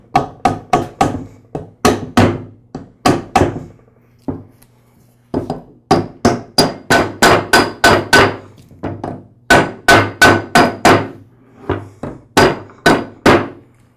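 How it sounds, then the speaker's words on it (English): Rubber mallet seating a seal onto the shaft of a Troy-Bilt small frame transmission during reassembly, a series of sharp, close thunks in quick bursts with short pauses between groups. "I'll seat the seal with a rubber mallet"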